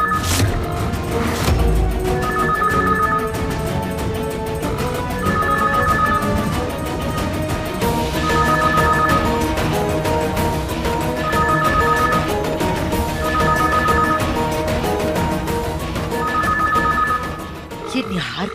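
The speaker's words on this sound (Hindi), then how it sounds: "मुंबई ज्वेलरी एक्सपो से फोन आने वाला था, शायद उन्हीं का कॉल होगा।" A telephone rings in repeated double bursts at a steady rhythm, heard over loud dramatic background music in a household scene.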